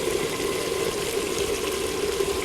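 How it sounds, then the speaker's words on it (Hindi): Water pours steadily into a cooking pot of browned chicken and potato for shorba, a continuous hissing, splashing stream at close range with no talk. "अब हम इसमें पानी डाल देंगे"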